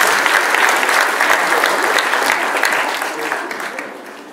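Steady applause from an audience at a municipal DIF event, dense clapping holding at one level and slowly tapering toward the end, with a voice faintly over it.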